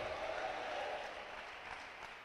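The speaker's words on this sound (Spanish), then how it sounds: "vamos a regalarle una alabanza de aplauso a Jesús en esta hora" A church congregation applauding in praise of Jesus during a service, a soft, steady wash of clapping that stays even and fairly distant for a couple of seconds.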